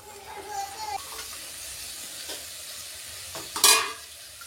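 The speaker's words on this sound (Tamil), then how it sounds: "இப்போ இதை நல்லா ஒரு கிளறலாம்." Vegetables with masala, soy chunks, carrot, beans and green peas are stirred in a hot frying pan, giving soft scraping and sizzling sounds with a louder hiss burst near the end, recorded close up.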